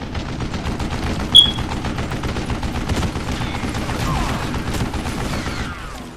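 Rapid bursts of mounted-gun fire in Call of Juarez: Gunslinger rattle on continuously for several seconds, loud and steady, with a sharp metallic clank early on and no voices.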